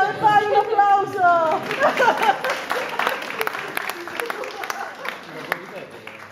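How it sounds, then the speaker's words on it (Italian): Applause at a demo exhibition in Rome, a burst of clapping from a small audience that tapers off, with voices and chatter mixed in. "fai un applauso"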